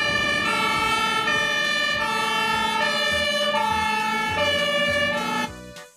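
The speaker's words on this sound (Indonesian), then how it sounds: "Wow, lihat teman-teman, di sini ada truk pemadam kebakaran." Toy fire truck siren playing a loud, steady electronic tone pattern with repeating notes, continuing alone for several seconds before cutting off abruptly at the end.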